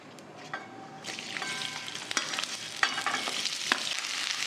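Oil sizzles and crackles in a hot kadhai while dhaba-style paneer masala is cooked, building into a loud, continuous fry with sharp pops and stirring scrapes, and no voices.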